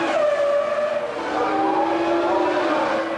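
Formula One cars from the 2000 season, a Ferrari among them, scream past at around 190 mph in a close wheel-to-wheel battle, a loud sustained high-revving engine whine with a falling pitch sweep as they pass.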